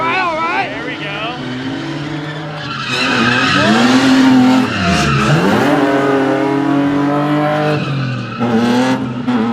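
Drift cars at a drift competition skid through a wide entry with loud, sustained tire squeal whose pitch wavers and sweeps, rising to a peak mid-run over engine noise while a commentator talks throughout.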